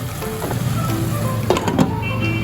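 Sugarcane jaggery melting with jujube fruit in a pan produces a steady close sizzle and bubbling hiss, with a few faint stirring clinks over the continuous frying sound.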